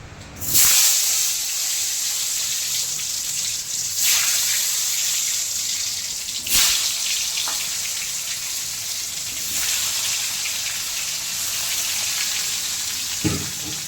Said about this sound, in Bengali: এখন আলু ছেড়ে আলুটাকে লাল লাল করে ভেজে নিব